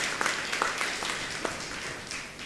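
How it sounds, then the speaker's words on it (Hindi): Audience applause at a church gathering: a steady, crackling wash of many hands clapping at moderate distance, holding even for the whole stretch with no voices. "तो उनके लिए भी जोरदार ताली बजा करके धन्यवाद दीजिएगा"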